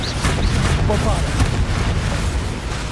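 Bombarda blasting spell explosions in Hogwarts Legacy, a dense stretch of loud booming blasts and crackling impacts that rolls on without pause, with an indistinct voice buried in the din.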